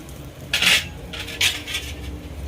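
Lotus seed snack being tossed with chili, coriander and cumin powder and salt in a bowl, giving two brief bursts of clinking and scraping against the dish with quiet gaps between.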